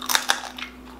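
Crunchy air-fried pork belly gets bitten close up, giving a few sharp crackling crunches in quick succession and then fainter chewing, with no talking.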